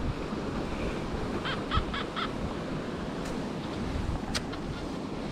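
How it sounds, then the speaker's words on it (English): Steady wind buffets the microphone across an open field during a metal detecting hunt, a loud continuous low rumble with a few faint chirps in the background and no speech. "Try and keep you out of the wind as much as I can."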